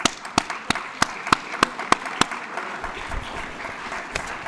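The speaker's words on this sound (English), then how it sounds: "Give them a round of applause if they're here." Applause at a scholastic awards banquet honouring students' support groups, beginning as a few sharp, separate claps near the microphone, then thinning into a softer scattered patter from a smaller crowd.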